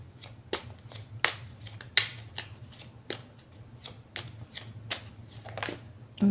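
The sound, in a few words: oracle cards being shuffled and drawn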